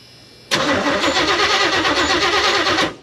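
An old square body truck engine cranks over: after a moment of quiet, the starter kicks in with a loud rhythmic churning that holds steady for about two seconds before cutting off, close up.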